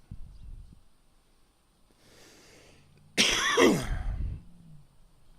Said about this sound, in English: If he's faking it, that's some cough.